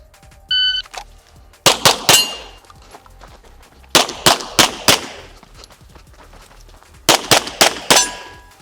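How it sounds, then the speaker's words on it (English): Pistol shots ring out in three quick bursts of four or five rounds each as a USPSA shooter fires at targets while moving. The shots are loud and near, with metallic clangs and a short electronic timer beep at the start. "Now we're gonna blend this position 2 and shoot it on the move."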